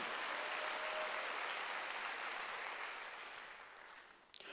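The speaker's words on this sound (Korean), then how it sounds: "박수" A church congregation applauds during a sermon with a steady wash of clapping that gradually fades out, followed by a brief thump at the end.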